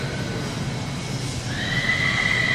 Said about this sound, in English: There's horses and stalls over there.